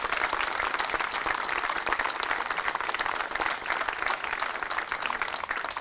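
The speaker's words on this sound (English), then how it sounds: "Give these people a round of applause" A crowd at an outdoor park tree house dedication ceremony gives a sustained round of applause, dense even clapping from many people that continues steadily throughout.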